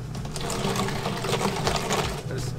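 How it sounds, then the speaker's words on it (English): A grinder runs continuously while grinding bones for tegu food, giving a dense, steady churning whir that stays loud throughout with slight fluctuations and no speech. "New to this grinder, gotta figure it out."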